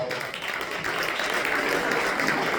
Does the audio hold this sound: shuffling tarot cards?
no